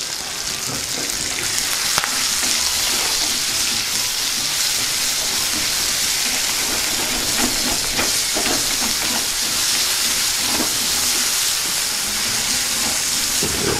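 Onions, green chillies and curry leaves sizzle in hot oil in a pan, making a loud, continuous hiss with faint crackles throughout and no voices.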